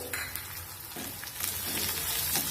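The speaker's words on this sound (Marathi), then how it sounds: "हिरवी मिरची लसूण आणि थोडंसं अद्रक थोडं जिरं हे वाटून घेतलं होतं ते ह्याच्यामध्ये आपल्याला छान तेलामध्ये परतून घ्यायचे" A ground paste of green chili, garlic, ginger and cumin sautéing in hot oil for a drumstick vegetable dish gives a steady close sizzle with light stirring scrapes, no voices.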